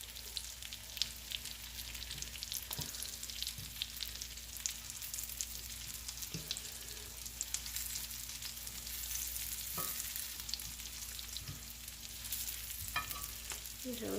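Green tomato slices fry in a pan with a steady, dense sizzle and crackle running throughout, close and fairly quiet, with a few faint clicks and bumps over the continuous hiss.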